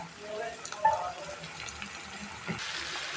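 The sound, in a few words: ginger garlic paste poured into the cooking pan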